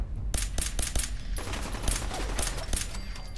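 Rapid bursts of gunfire in Fallout 4, a loud run of sharp shots in quick irregular succession with a dense rumbling roar beneath, no talking.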